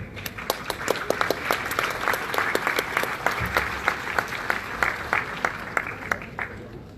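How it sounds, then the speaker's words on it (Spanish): Sustained audience applause at a José Mujica conference in a university hall, dense steady clapping from a large crowd, loud and continuous with a faint voice underneath. "Fuerte el aplauso"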